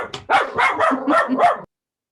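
A puppy barks in a quick series of yips and barks over about a second and a half, fairly close and loud, then goes silent.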